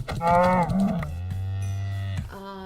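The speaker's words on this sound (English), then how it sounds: "we'll breed some of these cows" Cows in a video game low with a couple of drawn-out, close moos, one deep and sustained, clear and alone without any talk.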